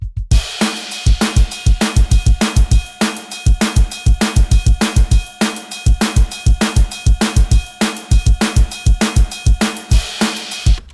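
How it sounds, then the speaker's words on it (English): Dense, heavily processed drum track from a drum VST in a loud mix, punchy kicks and snares hitting in a steady driving pattern with bright cymbals washing over the top, no voices. "My drum track on this sounds like this."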